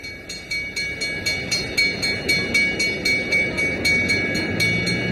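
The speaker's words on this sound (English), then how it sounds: "A Friday afternoon train arrives" A Burlington Northern E-unit train arrives at a station in 1991, rolling past with steady rhythmic clacking of wheels over rail joints and a continuous rumble, close and fairly loud.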